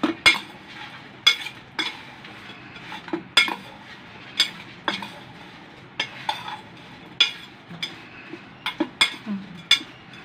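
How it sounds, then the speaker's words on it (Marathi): Homemade potato fries being tossed with salt in a metal bowl, giving repeated sharp clinks and scrapes of a utensil at an irregular, steady rhythm, close by with no talking. "हे मी टाकून घेतलेलं आहे, मीठ मिक्स करत आहे"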